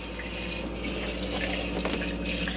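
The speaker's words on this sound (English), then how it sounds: "as long as the pump's on, you'll be able to get a pressurised flow of water." Pressurised water gushes steadily from a pump-fed hand basin tap in an Elddis Signature CV80 caravan, a continuous close splashing hiss into the sink.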